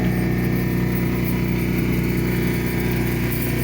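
A sailboat motors across calm Puget Sound under engine power, its inboard engine putting out a steady, close, evenly pulsing drone with no voices over it.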